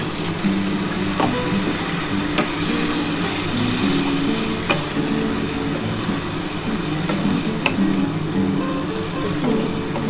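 Water poured into frying spice paste for a fish curry with potatoes sets off a steady, close sizzle and bubbling that lasts throughout, with soft background music underneath.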